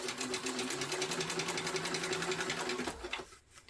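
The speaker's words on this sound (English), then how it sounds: "I'm just going to sew right up the middle. But I am back stitching well at the beginning and end." A sewing machine stitches fabric for a backpack in a rapid, even, whirring run of needle strokes that stops abruptly near the end.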